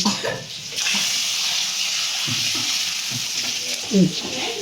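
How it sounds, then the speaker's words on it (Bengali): Dried red chillies frying in a pan until deep red, almost blackened, for a traditional Bengali mango dal. A steady, close sizzle hisses throughout, with a few faint low voices in the background. "এই যে শুকনো লঙ্কাটা একদম ভালো মতন লাল লাল করে ভেজে নিতে হবে"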